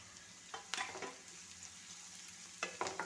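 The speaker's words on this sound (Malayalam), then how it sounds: "എല്ലാം കൂടെ ഒന്ന് വഴറ്റിയെടുക്കാം" Green chilli and snake gourd sautéing in a hot pan for a healthy breakfast dish: a steady close sizzle broken by two short bursts of spatula stirring and scraping, early and near the end, with no voices.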